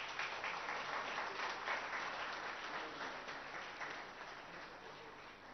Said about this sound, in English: Let's welcome the Honorable Minister with a big round of applause.